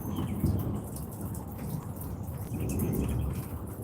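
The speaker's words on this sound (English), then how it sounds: "But there's still thunder." Thunder rumbles low and steady through continuous rain falling on a garden, with the pattering downpour and rolling rumble filling the whole stretch with no voices.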